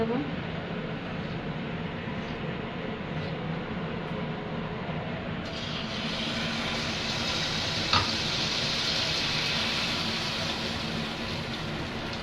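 Pitha, rice flour cakes, dropped into hot oil, a steady hissing sizzle that grows brighter and louder partway through as the batter hits the oil, with a voice talking over it.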